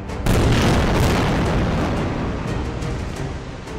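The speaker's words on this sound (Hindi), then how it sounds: "जिसके बाद वहां पर विस्फोट का भयानक शोर उठ गया" A sudden, massive blast from a strike on a bank building during the Israel-Hamas war erupts, then a dense roaring rumble of debris and crackling that holds loud and sustained for several seconds.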